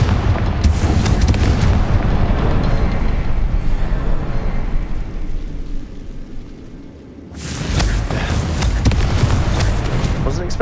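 The Confringo spell in Hogwarts Legacy lets off a loud, close, blasting roar that rumbles for several seconds, dies into a short lull, then flares up again with fresh crackling bursts.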